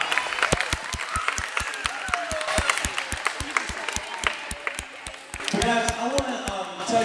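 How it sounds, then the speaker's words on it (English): A children's audience at an Awana club finale claps together in a steady, rhythmic beat of sharp hand claps, fairly close and lasting throughout, with voices audible in the room. "You can give yourself a hand clap."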